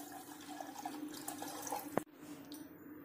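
Water poured from a measuring cup into a cooking pot for making corn papad dough, a steady splashing pour with a short sharp knock near the end, close and alone.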